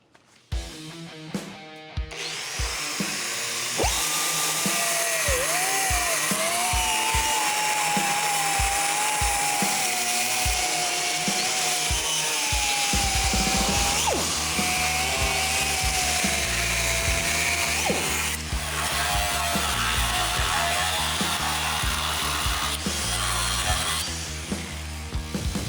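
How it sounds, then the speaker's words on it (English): A power tool cuts X shapes into the frame rivets of a worn 1972 Chevrolet C10 truck, starting with short bursts and then running as a loud, sustained, high-pitched grind with a fluctuating whine for over twenty seconds. "First thing we like to do is cut an X in those rivets"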